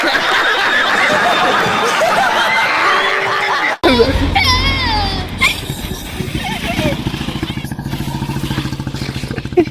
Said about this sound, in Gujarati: ઘોડો કેમ બોલે?